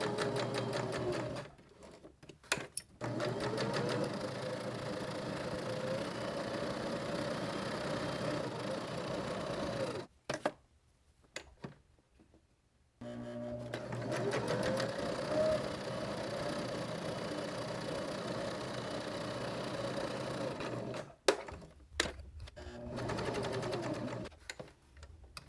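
Sewing machine stitching a seam on a tie-dyed fabric tote bag: a steady, close mechanical whir with a rapid needle chatter, running in long stretches broken by brief pauses, with no talking.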